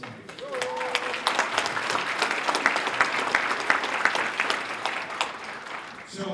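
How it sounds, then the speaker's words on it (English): Audience applause for a panelist, Representative Dan Itse, at a legislative panel of New Hampshire representatives: dense, steady clapping from a crowd lasting several seconds, with some voices mixed in. "Please, ladies and gentlemen, give a nice big round of applause for Representative Dan Itse."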